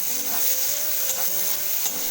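Chopped onion with potatoes frying in a pan, a steady close sizzle with faint stirring scrapes throughout, no talk.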